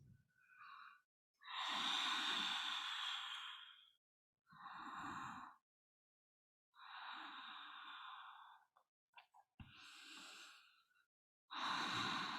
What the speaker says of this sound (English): Let's stay for just 3 more deep breaths.